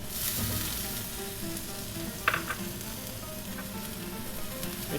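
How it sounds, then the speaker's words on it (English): Onions and peppers sautéing in a pan for a seafood paella, a steady close sizzle and crackle with a brief clatter of stirring, and no talking. "I want to add the onions, saute the onions,"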